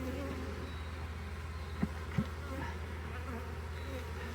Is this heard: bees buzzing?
yes